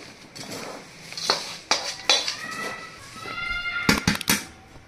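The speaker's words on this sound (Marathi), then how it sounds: "आता आपण फोडणी चिवड्यावर अशी मस्त ओतून घ्यायची." Hot tempering is poured over chivda in a pan and mixed, heard as metal clinks and scraping from a spoon against cookware, with several sharp knocks and a soft sizzle underneath at close range.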